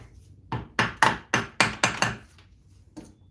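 Hammer blows strike a CVT transmission cooler being knocked loose, about seven sharp, evenly spaced metallic hits in a row, then a last lighter tap after a pause, loud and close with no talking.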